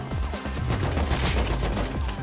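Rapid gunfire from a bolt-action rifle and an MP5 cracks out in an online shooter game. The shots come in a dense, fast burst that runs through the whole short stretch.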